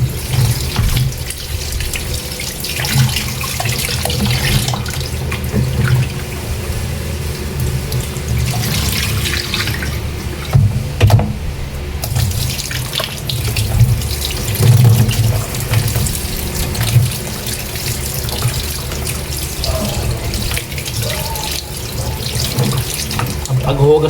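A kitchen tap runs steadily into a sink while pork is washed, a continuous close splashing stream with faint handling sounds and a voice speaking over it.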